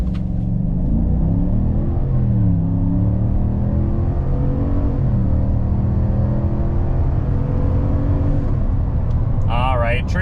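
Loud, steady engine drone of a 2024 Chevy Silverado pickup with a 6.2 liter V8 accelerating hard from 0 to 60, the pitch climbing and dropping through gear shifts, with a brief chime near the end and no talk over it.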